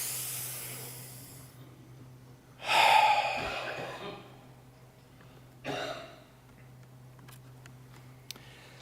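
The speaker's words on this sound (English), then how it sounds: "Just sit here and just a collective breath." A church congregation takes a collective deep breath, heard as a broad rush of inhalation followed by a softer exhale, with a steady low hum underneath.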